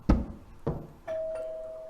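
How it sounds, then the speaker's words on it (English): Front-porch doorbell ringing: two soft knock-like taps followed by a clear sustained electronic chime tone, fairly quiet and alone with no voices. "reaching the door, rang the bell"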